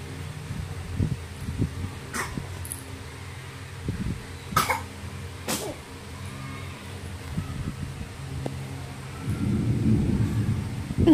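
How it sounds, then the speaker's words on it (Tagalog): Thunder rumbles during a heavy rainstorm, with several sharp cracks and a deep, loud roll building near the end over steady rain noise. "Lakas ng kulog"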